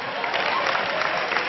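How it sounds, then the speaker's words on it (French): Short burst of audience applause at a comedy show in a cinema, a dense, moderately loud clatter of hands mixed with crowd noise. "applaudissez pour les femmes ce soir"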